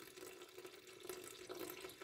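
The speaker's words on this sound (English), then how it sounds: "we actually add 300 grams of water" Water streams steadily into a bowl of sourdough ingredients, 300 grams poured in a continuous splashing, trickling flow at moderate distance.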